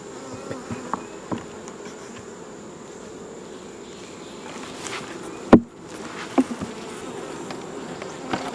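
Bees buzz steadily in a continuous low drone, with a few sharp knocks and clicks nearby.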